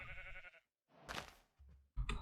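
Sheep bleating in Minecraft, a few short blocky bleats separated by brief silences, close and fairly quiet, with no talking.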